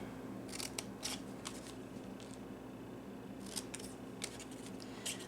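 Scissors cutting squares out of material for a DIY flash drive organizer, with crisp close snips in two bursts separated by a pause, over a steady low hum.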